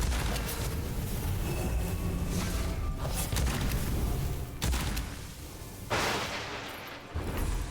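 Loud, continuous blasts of exploding pellets from a shotgun-like weapon in the video game Witchfire, rapid booming detonations overlapping almost without pause, surging again near the end.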